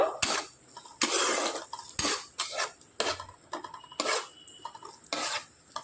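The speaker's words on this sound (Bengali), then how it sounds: "দুটো মিডিয়াম সাইজের পেঁয়াজ ছোট ছোট টুকরো করে কেটে রেখেছিলাম দিয়ে দিচ্ছি পেঁয়াজটা একটু নাড়াচাড়া করে নেব" Chopped onions, two medium ones, stirred in a pan with a spoon, giving a series of scraping, clattering bursts about once a second against the metal, fairly close and clear, with no voices.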